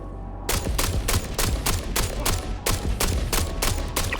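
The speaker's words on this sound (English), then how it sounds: "That was 12 shots, including a headshot with the S71 unsuppressed." Gemini S71 rifle firing unsuppressed in Star Citizen 3.24.2, about a dozen loud sharp shots in a steady semi-automatic rhythm, close and alone, each with a short echoing tail.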